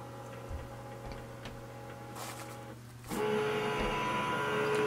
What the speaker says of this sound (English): the printer to scan and transfer the image here